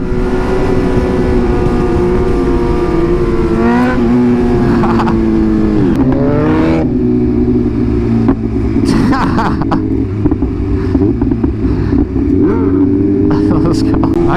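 A red BMW S1000 1000cc superbike rides past with a steady engine drone that rises and falls in revs, loud and close throughout, with brief wind or handling noise over it.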